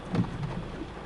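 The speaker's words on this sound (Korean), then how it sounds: "이 빗소리를 좋아합니다" Rain falls in a steady wash while low rumbling thunder rolls underneath in a brief, moderately loud stretch.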